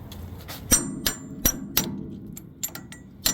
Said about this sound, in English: Grab our mighty big hammer here.